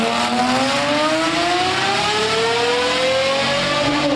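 A Mercedes S-Class V12 engine revs up loudly and close, its pitch climbing steadily in a smooth rising sweep with strong harmonics, heard alone with no talk.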